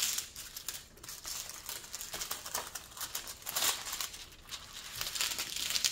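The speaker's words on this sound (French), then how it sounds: "je suis désolée pour le bruit de plastique" Thin plastic protective film over a diamond painting canvas crinkles and rustles up close in irregular bursts of soft crackling, fairly faint, with no talk.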